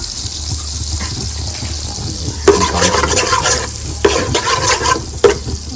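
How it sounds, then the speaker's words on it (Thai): Butter being stirred to melt in a pot for popcorn, scraping stirs with a sizzling, bubbling undertone, several louder stirring bursts over a steady hiss, close and clear without speech. "คนให้มันละลายครับ คนให้เนยละลายเนาะ"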